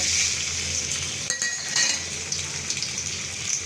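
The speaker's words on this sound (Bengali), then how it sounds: "এবার তেলটা গরম হয়ে গেছে তো এর মধ্যে আলুটা দেখো আমি লাল লাল করে ভেজে নেব" Boiled, cut potatoes frying in hot oil in a wok, a steady bright sizzle up close with a few metallic clinks and scrapes from the spatula, and no voices over it.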